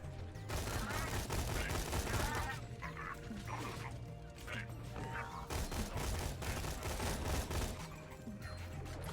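Rapid bursts of gunfire from a modded weapon in a War Machine mod video game, loud and dense, repeating in clustered volleys through the whole stretch with little pause.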